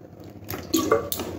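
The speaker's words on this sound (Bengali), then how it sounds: "আরও একটু অল্প একটু জল দিতে লাগবে" Water trickles and drips into semolina batter being mixed for jaggery pua pitha, a few short soft splashes and squishes close by, with no talking.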